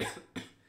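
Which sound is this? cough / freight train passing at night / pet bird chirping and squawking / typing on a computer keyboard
cough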